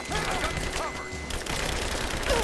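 Rapid gunfire in the Rise of the Tomb Raider video game, a dense crackling fusillade of distant shots running continuously under the game's background noise, with brief voices.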